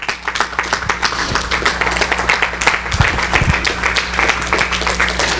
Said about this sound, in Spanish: Voy a dar un aplauso al Señor.